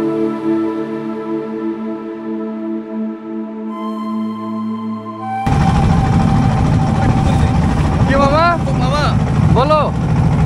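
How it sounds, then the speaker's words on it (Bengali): Motor trawler boat crossing the Padma River: a steady engine drone runs throughout, growing louder and rougher midway as wind and water noise join, with people talking over it. "ওর হচ্ছে এই ট্রলার, আমরা যাচ্ছি ওই পারে।"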